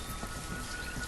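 Steady rain ambience from the city-building game Banished, a dense continuous hiss of rainfall on surfaces, fairly loud and even throughout with no speech.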